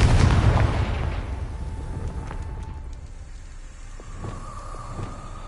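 A Confringo fire spell explodes in a Harry Potter video game, a loud booming blast at the start that rolls off into a long rumbling decay with faint crackles afterward, no voices heard.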